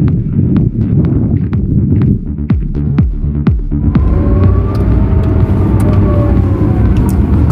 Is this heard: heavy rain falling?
no